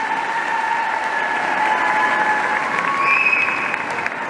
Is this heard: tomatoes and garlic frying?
no